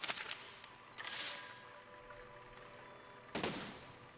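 Cannon shots in the Besiege video game: several sharp, fairly faint booms spaced irregularly, one followed by a longer hiss, with no talking over them.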